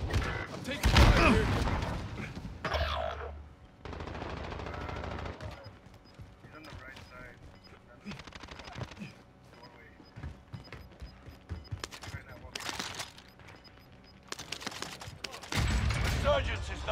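Gunfire from a Call of Duty Warzone Resurgence match, with repeated loud bursts and scattered shots rising and falling across the scene, mixed with game sounds and occasional speech.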